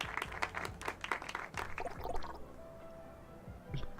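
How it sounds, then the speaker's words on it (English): Sparse, thin clapping from a small audience at a comedy stage in the video game Loverwatch, a scattering of light claps that fade out within a few seconds. "The previous comedian steps down from the stage to some paltry claps"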